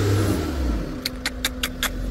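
Mahindra Scorpio N automatic engine revving hard as it struggles to climb an offroad slope near Lonavla, a steady close rumbling drone with a short run of rhythmic bursts, loud and without speech.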